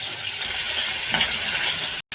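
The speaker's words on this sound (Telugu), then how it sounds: "తరువాత ఇలా టమాటా ముక్కలను కూడా వేసి మగ్గించుకోవాలి." Tomato pieces fry in a pan with a cumin and dried red chilli tempering, giving a steady, close sizzle with faint stirring throughout and one brief dropout near the end.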